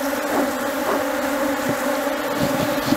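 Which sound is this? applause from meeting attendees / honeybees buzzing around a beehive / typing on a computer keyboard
honeybees buzzing around a beehive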